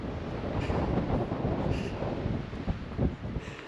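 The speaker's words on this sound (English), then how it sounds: "it is getting very windy. Might be a windy summit today. 30-mile-an-hour wind gusts." Strong gusty wind on a high mountain summit near switchbacks, with gusts around 30 miles an hour, buffeting the microphone in a steady broadband roar that swells and dips.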